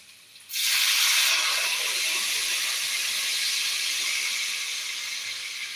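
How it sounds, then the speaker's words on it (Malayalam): Hot water poured from a flask into breakfast batter made with coconut milk and ghee, a sudden loud steady hiss that starts abruptly and holds, fading slightly toward the end. "ഇനി അല്പം ചൂടുവെള്ളം ഒഴിച്ചു കൊടുക്കാം"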